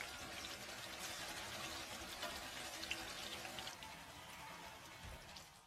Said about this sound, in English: Now I'm going to fry the eggplant until it's golden brown.